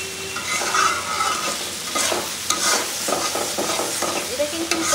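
Green chilies stirred in a hot frying pan, a steady sizzle with repeated scraping strokes of a spoon against the metal, close and fairly loud throughout.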